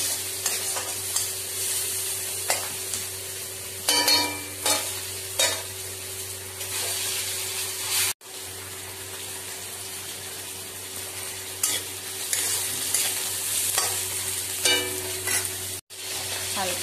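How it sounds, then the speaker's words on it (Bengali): Fish sizzles steadily in a hot pan while a utensil stirs it in repeated scraping bursts, close and fairly loud, with a couple of brief pauses. "একটা ভাজা ভাজা করব, বেশি করব না"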